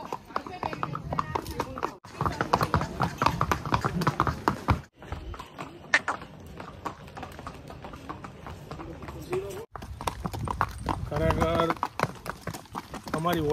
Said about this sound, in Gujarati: ખાલી આ બેના ચાલવાનો અવાજ આવે